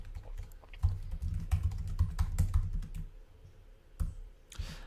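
Someone types on a computer keyboard at a desk, a close run of quick clicking keystrokes that is dense at first, then slows into a few separate taps.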